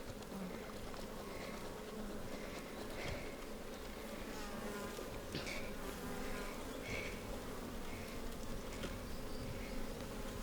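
Honey bees swarm around an open hive at a beekeeping site, a dense, continuous buzzing that stays fairly even throughout, with individual bees droning closer now and then.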